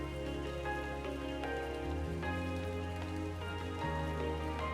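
Heavy rain falling in Tokyo Xanadu eX+, a steady, dense wash of drops that holds even throughout, alone apart from background game music.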